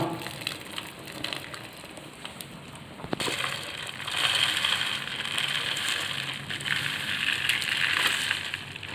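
Soaked rice poured into a boiling pot of chicken kabsa: a sharp splash at the start, then a steady close hissing, bubbling rush that swells and continues on its own, with no talking.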